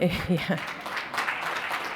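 Audience applause at a keynote talk on multifamily housing, a brief spatter of clapping that rises under and after a speaker's voice, moderately loud in a hall.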